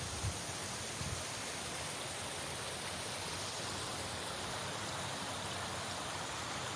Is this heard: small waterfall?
yes